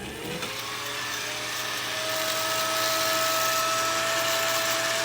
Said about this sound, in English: Here's a hairdryer.